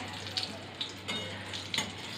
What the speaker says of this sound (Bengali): এখন তো বেগুনটা ভাজছি আমি